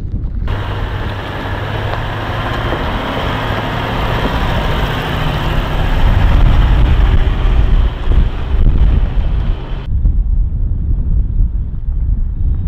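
Strong wind roars and buffets the microphone continuously at a viewpoint in the Flinders Ranges, South Australia, a loud, rumbling rush with gusty low thumps throughout.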